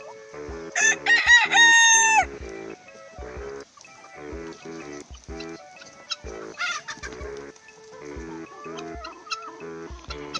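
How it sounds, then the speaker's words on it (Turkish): Chickens cluck and squawk up close while being fed meat, with a rooster-like crowing burst early on, then repeated clucks in irregular bursts. "tavuklarımıza et verdik gördüğünüz gibi"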